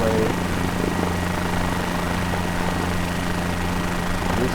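A helicopter flies over Tokyo with a steady, loud, close rotor and engine drone that holds without a break, and no talking is heard.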